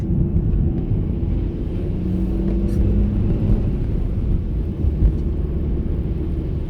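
Mazda 323F hatchback climbing a hill on a rain-soaked road, heard from inside the cabin as a steady low engine drone and rumble with a constant wash of tyre noise, no talking.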